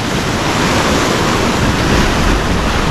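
Ocean surf breaking steadily onto the Central Coast shore, a loud continuous wash of crashing waves with wind noise buffeting the microphone and no voices.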